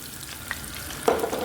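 Ginger and garlic fry in mustard oil with a close, continuous sizzle, and a brief louder crackle comes near the end as the pan is stirred.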